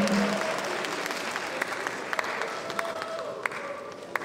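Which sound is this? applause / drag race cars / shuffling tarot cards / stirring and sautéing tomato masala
applause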